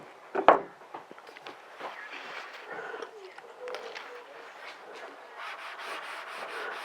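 Rubbing alcohol being wiped across the back side of a rear deck spoiler tail light trim piece on a 2018 Honda Civic, a soft close scrubbing and rubbing with one sharp knock at the start.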